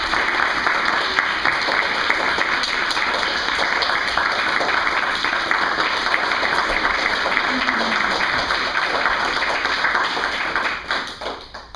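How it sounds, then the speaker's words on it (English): At a martial arts school's belt testing, families and students clap for the graduating students in a sustained, fairly close round of applause that tapers off in the last second. "Clap for our graduating students."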